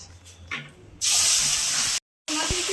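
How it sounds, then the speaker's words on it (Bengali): Pabda fish drop into hot white oil in a home kitchen, and a loud, close, hissing sizzle bursts out after a quieter start with a little talk, breaks off briefly, then carries on. "মাছগুলো ভালো করে ভেজে নেবো"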